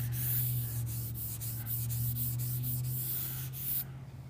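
Sandpaper rubs steadily across sealer on a painted car panel, a close, continuous hissy scrape with a low steady hum beneath, stopping abruptly near the end.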